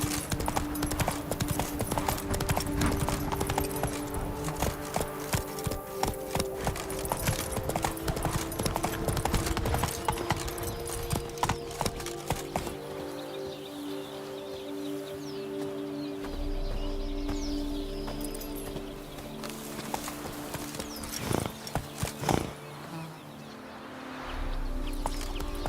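Roach, a horse in The Witcher 3: Blood and Wine, gallops with a steady, loud rhythmic clip-clop of hooves that continues throughout, with faint birdsong and ambient game sounds in the background.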